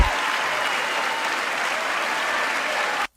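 Loud, dense applause from a large crowd at the State of the Union address, sustained evenly for about three seconds before cutting off abruptly.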